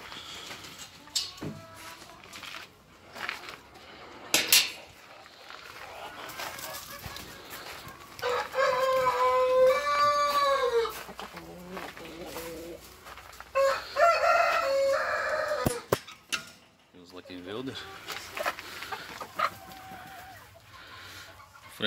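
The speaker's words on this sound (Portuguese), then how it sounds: "O franguinho começou a cantar, já botei com as galinhas para ver se trabalha" A young rooster among hens gives several strained crows in bursts, with clucking and scattered farmyard bird calls around them, close and fairly clear, with no speech.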